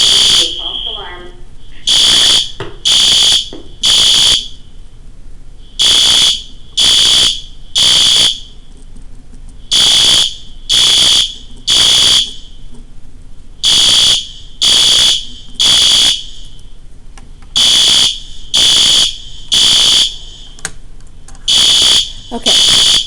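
A school fire alarm sounds in a false alarm, loud piercing electronic beeps in repeated bursts of three, rhythmic and insistent throughout, with a voice speaking briefly over it.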